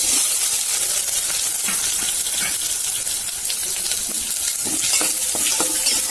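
Onions drop into hot oil for a chickpea kurma and fry with a constant bright sizzle and crackle, loud and close, with occasional stirring scrapes and pops throughout.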